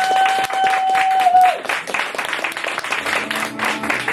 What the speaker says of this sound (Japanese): それでは津田さんに引き続きの拍手を。